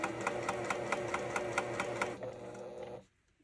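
Sewing machine stitching a quarter-inch pillow seam, a steady close mechanical hum with a quick regular needle beat that slows near the end, then stops.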